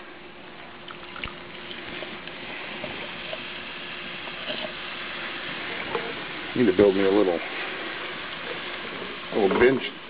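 Steady frying sizzle of refried beans in a skillet, cooked outdoors off the grid, runs throughout, with a voice talking over it and a couple of brief louder clanks near the end.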